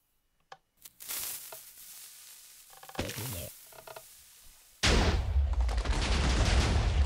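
A Penetrator Cannon fires in a video game: a sharp crack, then a rumbling blast, then a second loud, sustained roaring impact that carries on to the end.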